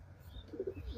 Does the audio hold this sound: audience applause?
no